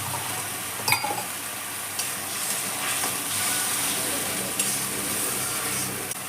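Tomato paste hits a frying pan with onion, ginger and garlic for a squash and potato curry, giving a loud, steady sizzle with a few spoon clinks and stirring scrapes.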